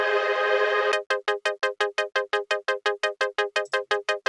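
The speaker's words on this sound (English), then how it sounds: "it's just an ARP, but it's like extremely reverbed out that you don't even notice that it's an ARP" Synth arpeggio for a future bass track, starting as a sustained wash of washed-out tones before breaking into a steady run of short, evenly pulsing notes with heavy reverb tails, loud and alone.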